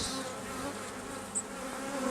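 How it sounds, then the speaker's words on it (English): Steady, dense buzzing of many honeybees at an open hive hums throughout at close range, with a brief brighter whine passing near the middle. "good amount of bees"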